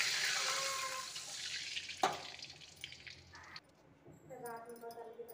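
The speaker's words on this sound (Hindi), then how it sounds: "अभी हम इसमें 1 गिलास पानी डालते हैं।" A glass of water is poured into a kadhai of roasted cumin, giving a loud hiss and sizzle that fades, followed by softer bubbling and a faint clink.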